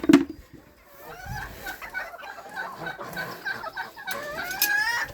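Cochin hens and bantams in a poultry coop, clucking and squawking close by in uneven bursts, with a loud cackle at the start and more calls building toward the end; no voices are heard.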